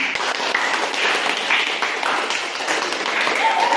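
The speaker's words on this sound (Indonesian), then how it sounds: "Berikan aplaus untuk kelompok 3." Classroom applause for discussion group 3, a continuous patter of many hands clapping at close range, steady and moderately loud from start to finish.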